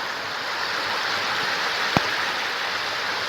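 Heavy rain pours down steadily in a village, a dense, even hiss of water with one brief sharp knock near the middle and no voices.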